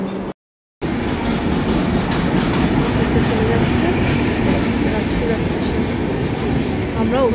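Train at a railway station on an arrival stop, with a steady rumble and rolling noise throughout and a brief break near the start, plus faint voices in the background.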